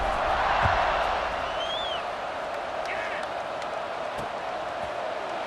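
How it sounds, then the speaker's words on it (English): The stadium crowd in a college football video game keeps up a steady, broad roar after a touchdown, with faint scattered cheers and whistles. It is continuous and fairly distant, with no clear voice on top. "this crowd is buzzing after that last score"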